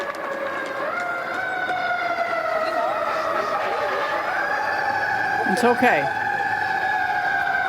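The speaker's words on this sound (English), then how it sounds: "Sirens blaring along Interstate 280," Emergency vehicle sirens wail steadily along Interstate 280 near Lake Merced in Daly City, a loud continuous rising and falling tone with brief talk over it.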